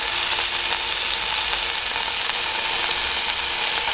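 Steak sizzles hard in a cast iron pan outdoors, a loud, dense, steady crackle of fat spitting and popping, close and continuous without speech.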